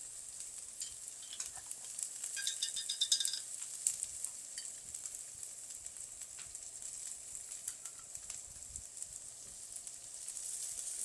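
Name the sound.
spicy bean paste sizzling in a frying pan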